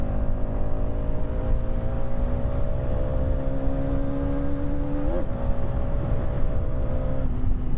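A Hero Xtreme 250R motorcycle engine on the move, a loud steady droning hum with wind rush that wavers briefly in pitch partway through before settling again.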